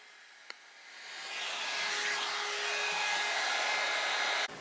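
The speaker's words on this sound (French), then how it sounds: "j'ai continué avec ma brosse soufflante de chez Babyliss à faire mon brushing" A Babyliss hot air brush blows steadily while styling a wig, its airflow rising after a faint click and holding a constant close whoosh before cutting off abruptly at the end.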